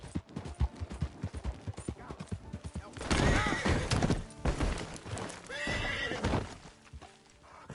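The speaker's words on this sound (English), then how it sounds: "Horse, are you okay?" A horse whinnies loudly several times amid clip-clopping hooves and scuffling, with sharp bursts in between; no talk.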